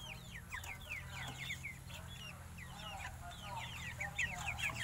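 Broiler chickens on a farm cluck in a busy, overlapping chorus of short calls over a low steady hum, moderately close but fairly quiet.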